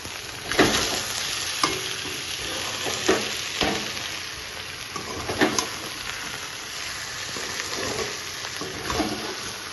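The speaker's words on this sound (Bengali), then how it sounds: "এবার আমি একটু ভালো করে মিশিয়ে দেবো" A small-fish curry of mourola fish is stirred in a pan with repeated scraping strokes every second or two, each one rising over a continuous background sizzle heard close up.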